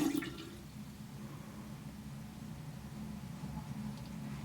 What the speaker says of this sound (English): we're going to get our makeup brush wet from the tap